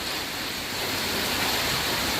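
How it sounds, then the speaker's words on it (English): Heavy rain pours down steadily on a beach road in Pattaya, a loud, dense and unbroken wash of noise with no voices. "Rain is really coming down."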